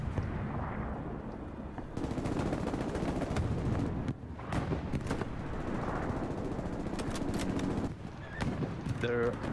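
Gunfire in the video game Hell Let Loose on Omaha Beach crackles in dense bursts from mid-distance, sustained over a noisy battlefield rumble with occasional voices.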